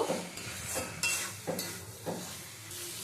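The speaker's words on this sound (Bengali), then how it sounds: "মশলার বাটি ধোয়া জলটা দিয়েও আবারও কিছুক্ষণ নেড়ে চেড়ে নেব।" Okra and potatoes with spices and a splash of water being stirred in a pan, a steady sizzle broken by rhythmic spoon scrapes about every half second, close and with no voices.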